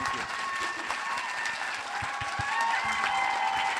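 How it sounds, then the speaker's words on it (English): Audience applause for two performers on stage at a live event, a steady wash of clapping with some crowd noise, moderately distant and sustained throughout. "I want everyone to give a huge round of applause for these two."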